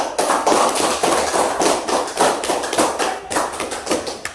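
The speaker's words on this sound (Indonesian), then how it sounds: "Tepuk tangan." A classroom of students applauds, a dense burst of many hands clapping together that fills the whole stretch and ends abruptly.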